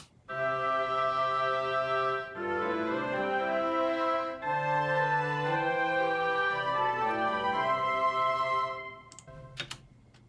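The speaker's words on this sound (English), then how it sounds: "Then to add a little more layer with the woodwinds, I added an ensemble." Sustained woodwind ensemble chords with rich harmonic tones, shifting through several changes over about nine seconds before fading out, with a couple of faint clicks at the end.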